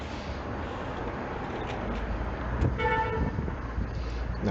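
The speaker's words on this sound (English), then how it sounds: "Now you hear some car honking, right?" A single car horn honks briefly from moderate distance on a busy street, rising above a steady wash of traffic noise.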